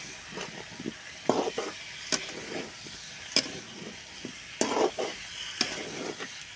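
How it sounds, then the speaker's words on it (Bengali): Potatoes fried in a pan while being stirred, with a soft, continuous sizzle broken by repeated scraping and clattering strokes of the spoon close by, and no voices. "আলু দেওয়ার পরে একটু সময় এরকম নেড়ে ছেড়ে নেব।"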